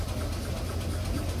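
A Fairbanks Morse 22 HP antique engine runs at an antique auto club gathering, giving a steady, continuous low rumble that holds even throughout with no breaks.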